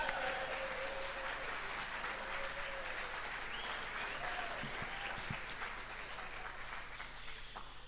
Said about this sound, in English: How about a round of applause for everybody who wasn't?